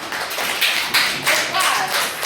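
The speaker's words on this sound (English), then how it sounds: "Give him a clap." A grade 1 class claps together in an English lesson classroom, a dense burst of many small hands giving quick applause for a couple of seconds, close and fairly loud.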